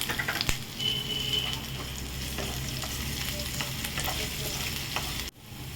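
Chopped ginger fries and sizzles steadily in hot oil in a wok while being stirred, a continuous close crackle with occasional scraping clinks, cutting off abruptly near the end.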